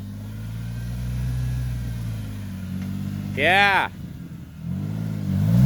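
A stuck vehicle on a wilderness road revs its engine while rocking back and forth against a berm, the motor droning low and rising in short bursts. A person speaks briefly over the engine.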